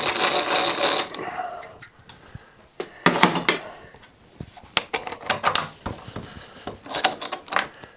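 A small hand drill deburrs a steel tractor pin, giving bursts of whirring and rattling metallic clatter with clicks and clunks in between, close and fairly loud, alone without talk.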